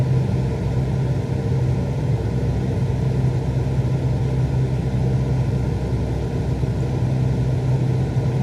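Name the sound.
aircraft engine on landing approach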